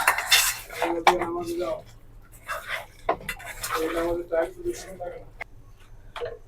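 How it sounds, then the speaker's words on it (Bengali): A saucepan is set onto a kitchen stove with a few close metallic clanks and scrapes of cookware, while someone talks quietly between them. "এখন চুলাতে একটা সসপ্যান বসায় দিলাম"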